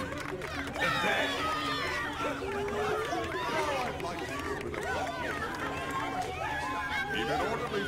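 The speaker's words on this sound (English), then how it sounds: "We've just got to push through this crowd" A dense crowd murmurs and chatters in Minecraft Story Mode, many overlapping voices forming a steady, busy babble with scattered louder calls throughout.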